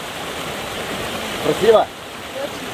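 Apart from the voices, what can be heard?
Zhigalan river waterfall rushing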